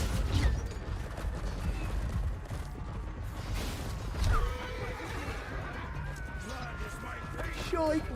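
Horses in a Chivalry 2 battle neigh and whinny several times amid chaotic clatter and crashes, with shouting voices mixed in throughout.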